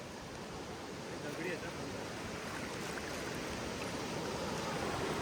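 Steady rushing river water flows continuously, a broad noisy wash that swells slightly louder toward the end, with no clear voices over it.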